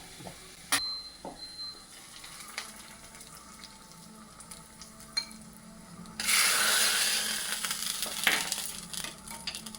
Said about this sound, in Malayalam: ജീരകം പൊട്ടി ഇതാ ഉള്ളിയും മുളകൊക്കെ ഇങ്ങനെ നിറയായി മൂപ്പിച്ചു